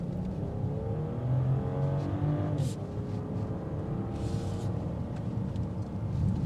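A 2026 BMW X6 xDrive40i accelerating in sport mode: the engine note climbs steadily in pitch, breaks at a gear change, then pulls again over a constant cabin drone.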